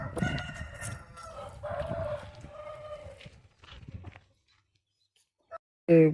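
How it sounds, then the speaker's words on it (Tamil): Roosters kept for breeding crow in bursts close by, with other farm noise between calls, then a quiet stretch before a loud final crow. "உள்ளே ரிங்கில் பார்த்தீங்கன்னா நிறைய சேவல்கள் இருக்குது"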